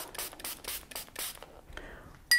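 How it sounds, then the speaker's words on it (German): Several quick hissing sprays of water onto toilet paper in a row, close and short, followed by a soft rustle and a brief higher tone at the end. "besprühe das mit Wasser"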